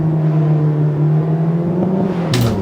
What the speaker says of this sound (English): Building the revs up.